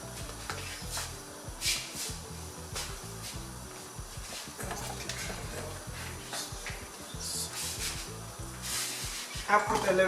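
Ingredients sizzle steadily in hot cooking oil for Nigerian jollof rice. A continuous close hiss runs throughout, with occasional scraping and stirring noises over it and no clear talk.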